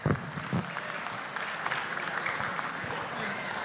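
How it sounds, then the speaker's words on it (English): Applause from a crowd at a school annual day celebration in Hyderabad after a performance, a steady wash of clapping with a few louder bursts at the start, sustained throughout. "Thunderous round of applause for this vibrant performance."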